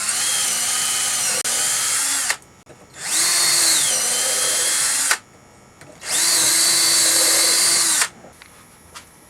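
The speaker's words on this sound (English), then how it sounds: "Go ahead and drill this out for the bolts that you're going to put it on with" A power drill bores bolt holes in a wooden chuck primer in three long bursts, each a loud, steady high whine lasting about two seconds, with brief quiet gaps between runs.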